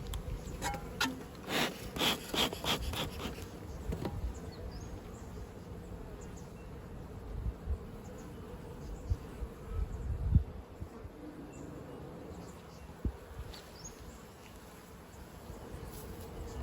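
Honeybees humming around an apiary beehive in Australia, a faint, steady buzz close to the microphone with some clicks and knocks from hive handling early on.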